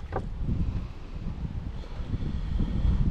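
Wind gusting across a lake on the Holt-Tisza backwater during boat lure fishing, a steady low rumble of wind buffeting the microphone with faint water and boat noise, no talking.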